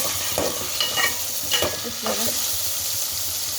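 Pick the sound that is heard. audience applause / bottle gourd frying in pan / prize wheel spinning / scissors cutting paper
bottle gourd frying in pan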